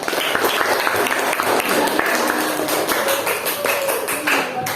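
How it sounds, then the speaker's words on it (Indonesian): Students in a classroom clap for group 3, a loud, close burst of many hands clapping fast and irregularly. A voice can be heard briefly over the applause. "Tepuk tangan dulu sekali lagi untuk kelompok 3"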